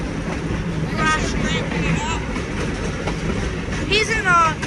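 A diesel locomotive hauls a train through a snowy landscape, its steady rumble and rail noise running throughout, loud and close, while people talk over it.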